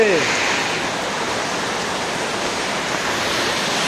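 Heavy rain pours steadily in Subarnachar, Noakhali, a dense, even roar of falling water that stays constant throughout with no talk over it.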